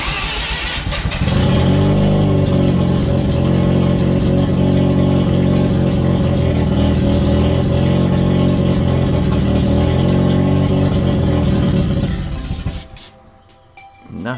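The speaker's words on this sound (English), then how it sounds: "The motor does run, but right now, barely." Rough, uneven running of a rotary motor in a Triumph GT6+, loud and close with a deep throb for about twelve seconds before it cuts out and falls quiet.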